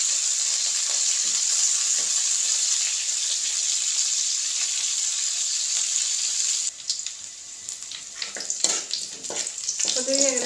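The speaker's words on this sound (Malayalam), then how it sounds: "അപ്പോൾ നമുക്ക് ആദ്യം ചെറുള്ളി ഇടുക. ചെറുള്ളി ഇട്ടിട്ടൊന്ന് മൂക്കട്ടെ കേട്ടോ." Shallots fry in hot oil in a pan, a steady bright sizzle heard up close. It softens after about seven seconds, when stirring scrapes and clatters join in.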